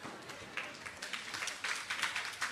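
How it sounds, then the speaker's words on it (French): Brief applause from an audience at a debate on recognising the Palestinian state, scattered claps rising in quick bursts at moderate loudness. "Nous pouvons l'applaudir, Mohamed."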